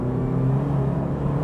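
A 2012 Toyota GT 86 engine in sport mode runs with a steady, loud low rumble and a sustained hum for the whole moment, with no clear rise in revs and no one speaking.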